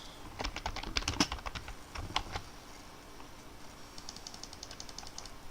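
Text typed on a computer keyboard, a close run of quick clicking keystrokes in bursts, then a brief pause and a lighter, fainter patter of keys.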